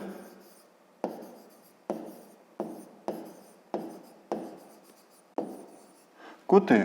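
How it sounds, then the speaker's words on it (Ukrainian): Handwriting with a pen on paper while a fifth-grade math exercise on angles is worked out, a series of about eight short scratchy strokes in an even rhythm, each starting sharply and fading, with a brief spoken word at the end. "Пишемо."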